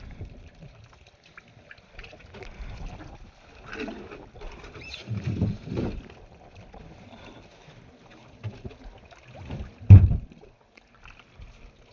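A fishing boat rides the deep sea. Quiet water sloshes and laps against the hull, with soft irregular knocks and a louder thump near the end over a faint, calm background.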